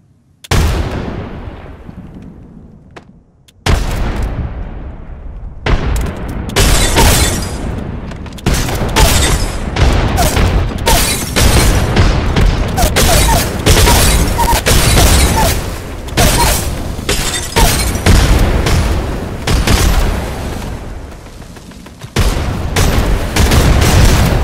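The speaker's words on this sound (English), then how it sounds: "here's what would happen if grenades multiplied after you threw them." Grenade explosions in a video game, one boom and then a dense, continuous barrage of overlapping blasts as the grenades multiply. Loud, close and relentless, with only short gaps.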